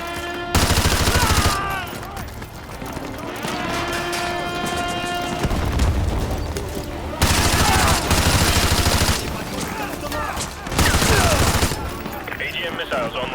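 Sustained bursts of machine gun fire in the video game Modern Warfare 2, loud rapid fusillades broken by short gaps, with heavy layered gunfire sweeping in and out.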